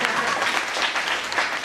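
An audience at a motivational talk breaks into a short, brisk round of clapping, many hands close together in a dense burst lasting under two seconds.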